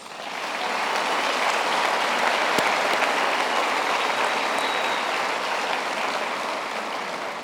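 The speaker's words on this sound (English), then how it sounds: "take a moment to give yourselves a warm, big round of applause." Graduates at a graduation ceremony give themselves a warm round of applause, a broad, sustained wash of clapping from a large crowd that swells in and holds steady throughout.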